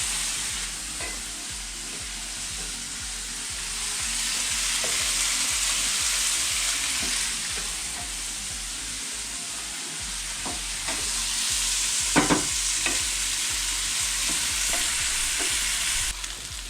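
Onion sizzling and frying with sausage and bacon in a pot for Polish żur sour soup, a steady loud crackle with repeated stirring scrapes and clinks throughout, no talking.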